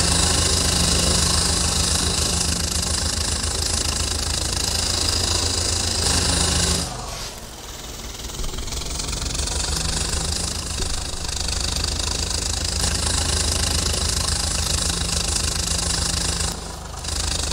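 A New Holland 3630 tractor engine in Farming Simulator 22 runs with a loud, steady rumbling drone, dipping briefly in level before resuming its constant mechanical hum.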